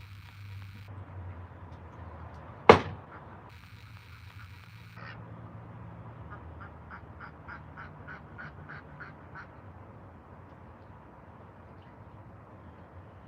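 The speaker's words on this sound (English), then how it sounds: "But it had ducks over here, geese" Ducks and geese call near a fishing pond, a loud sharp bang early on, then a run of short, evenly spaced quacks at middle distance over steady outdoor background noise.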